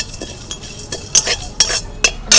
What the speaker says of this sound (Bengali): এবার যে কসুরি মেথিটা আছে একদম ভাজা হয়ে গেছে, এটাও দিয়ে দেবো। একটু কড়াতে নেড়ে নামিয়ে নেব।